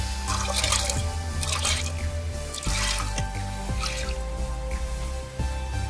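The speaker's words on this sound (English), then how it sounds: "I am adding the washed dal in it" Close splashing and dripping of washed toor dal lentils dropping into water, with a few soft plops and trickles over steady low background hum.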